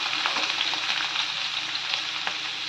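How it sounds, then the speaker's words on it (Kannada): Ginger, garlic and green chilli sizzle steadily in hot cooking oil, a close, dense crackle with light stirring and no talk. "ಇದನ್ನು ಸ್ವಲ್ಪ ಫ್ರೈ ಮಾಡ್ಕೋಬೇಕು."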